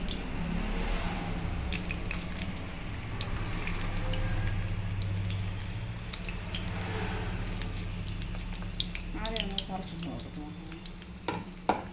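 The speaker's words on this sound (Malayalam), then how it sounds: "ഇനി എണ്ണയൊന്ന് ചൂടായി വരട്ടെ. അപ്പോൾ എണ്ണയൊക്കെ ചൂടാക്കി വന്നിട്ടുണ്ട്. നമുക്കിത് ഇട്ട് കൊടുക്കാം." Cauliflower pieces frying in hot oil give a continuous close sizzle and bubbling, with stirring and a few sharper spoon clatters toward the end.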